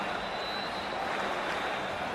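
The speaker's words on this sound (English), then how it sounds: "already the crowd is up and about" Broad, steady roar of a stadium crowd cheering and clapping in the cricket video game Cricket 24 holds evenly throughout, a dense wash of sound at moderate level from far off.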